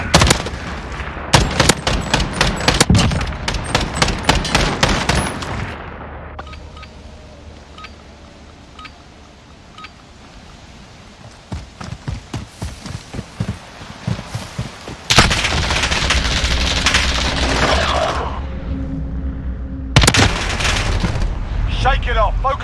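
Intense gunfire from a Modern Warfare gunfight, with rapid loud bursts of automatic fire and sharp shots in clusters, a quieter stretch of scattered pops and ambient hum in the middle, then heavy firing returning near the end.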